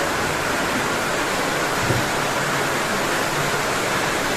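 Heavy morning rain falling outside a home, a dense, even roar of water that stays constant throughout with no voices.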